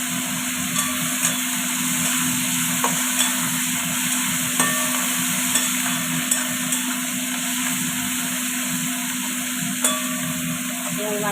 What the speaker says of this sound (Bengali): এবার আমি দিয়ে দিলাম চিংড়ি মাছগুলো।